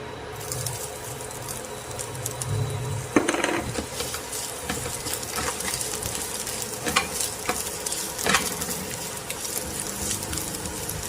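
Ginger sautéing in oil for a Bicol Express made with milkfish gives a continuous soft sizzle with scattered crackles and a few stirring clinks, close and moderately quiet, with no talking.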